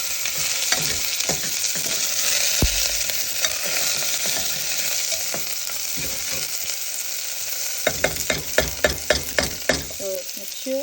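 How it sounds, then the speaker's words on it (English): Sliced long pieces of onion and ginger leaf stirred together in a hot pan, with steady sizzling and repeated scraping strokes of a spatula that grow sharper and more rhythmic toward the end. "Now mix it all together"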